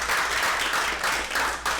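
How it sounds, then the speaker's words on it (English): Audience at a real estate investing talk applauding as speakers come up, a steady wash of dense clapping, fairly close and continuous, with little else over it. "give them a round of applause"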